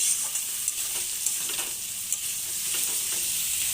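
Pre-fried potatoes stirred in hot oil in a pan of frying spices, a soft steady sizzle with light scraping and clinks from the stirring utensil, fairly quiet and close.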